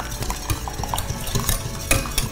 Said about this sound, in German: Sollen wir es jetzt mal hier einrühren?